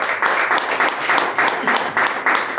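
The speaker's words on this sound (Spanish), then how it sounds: "Denle el aplauso al Señor." A church congregation applauding, loud and close, dense clapping with a regular rhythmic pulse as the crowd claps together.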